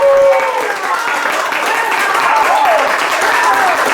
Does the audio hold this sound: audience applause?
yes